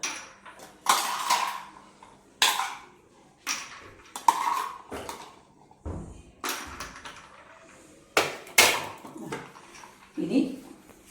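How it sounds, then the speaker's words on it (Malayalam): Ice cubes dropped one after another into a glass of cold coffee, making a string of sharp clinks and clatters at irregular intervals, close by and fairly loud. "അതിന് ശേഷം ഈ ബാക്കിയുള്ള ഐസ് ക്യൂബൊക്കെ ഇതിലേക്ക് ഇട്ട് കൊടുക്കുക."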